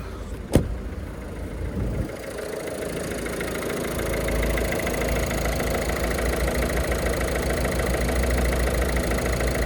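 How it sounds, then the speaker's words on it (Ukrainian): A sharp click, then the 1.5 diesel engine of a 2019 Peugeot 308 SW starts and settles into a steady, rumbling idle that continues evenly, close by. "Пішли послухаємо двигун."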